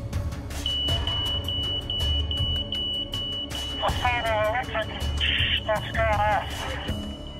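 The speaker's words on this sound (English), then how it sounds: "The photoelectric alarm has done its job." A high electronic photoelectric smoke alarm beeps repeatedly during a house fire, over a busy background, joined by warbling, sweeping electronic tones partway through.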